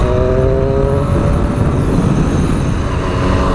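A 2017 Triumph Street Triple RS motorcycle engine running under steady load, a loud, dense, continuous roar with a shifting engine note, close by and alone without talk.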